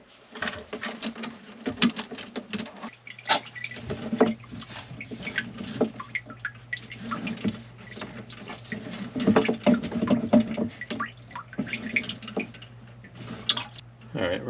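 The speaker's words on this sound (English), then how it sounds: "we're getting some water flowing out of the pipe" Water trickles and drips from a sump pump discharge pipe during a home repair, a steady patter of small splashes over a low constant hum, with brief clunks and handling noises nearby.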